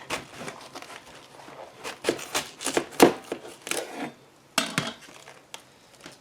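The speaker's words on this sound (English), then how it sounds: "So I'm going to go ahead and cut this in half and then I'll be able to remove the core" A kitchen knife cuts through a head of cabbage on a cutting board in a series of crisp, crunchy chops and slices, close and moderately loud, with short pauses between strokes.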